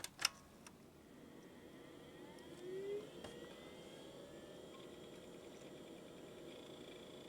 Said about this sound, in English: hard drive spins up without any fuss